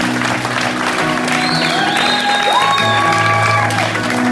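A church congregation keeps applauding, steady loud clapping mixed with held keyboard notes and gliding tones, filling the room without a break.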